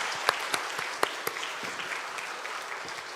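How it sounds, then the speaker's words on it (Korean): A seminar audience in a church setting claps to welcome a lecturer, with a few sharp, distinct claps at the start blending into a steady, moderately loud round of applause. "우리 다 같이 힘찬 박수를 한번 환영해 주시고"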